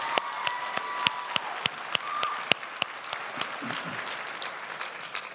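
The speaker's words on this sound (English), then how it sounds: "That in itself is worthy of a round of applause." Applause at a drag racing awards banquet, a moderate crowd clapping with several sharp individual claps standing out in a loose, fairly steady rhythm, heard from a little distance.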